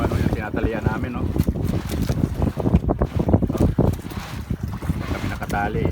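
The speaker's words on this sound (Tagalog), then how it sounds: "Malakas ang hangin." Strong wind buffets a small fishing boat at sea, roaring and gusting against the microphone with splashing water, while people talk over it.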